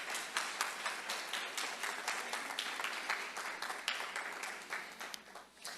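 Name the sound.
congregation clapping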